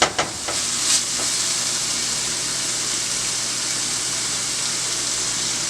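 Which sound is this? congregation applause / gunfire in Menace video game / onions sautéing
onions sautéing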